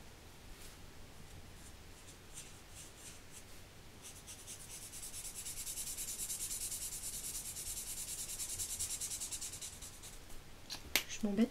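Dark ochre coloured pencil rubbed across paper while colouring in a card, a steady close scratchy shading that grows denser and louder midway, ending with a few sharper strokes.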